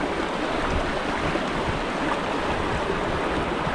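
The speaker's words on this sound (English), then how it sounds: "the creek, I should say, is moving really fast on the other side of those rocks." A fast-moving creek rushes over and around rocks in a forest gorge, producing a loud, continuous broadband roar of water with no pauses, heard close along the bank.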